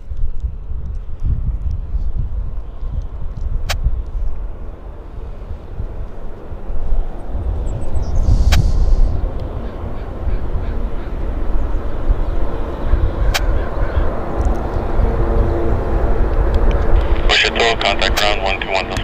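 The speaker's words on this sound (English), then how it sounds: "This is Air Canada in from Japan, Osaka, Japan." An Air Canada airliner arriving from Osaka, Japan, at Vancouver airport, a continuous low jet rumble that stays loud and steady throughout, with a tonal whine and some crackle near the end.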